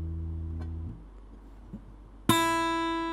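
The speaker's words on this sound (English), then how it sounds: "The string is less thicker, the sound is high." A single high note plucked on a thinner string rings out bright and clear, preceded by the fading tail of a lower note and a little quiet handling noise.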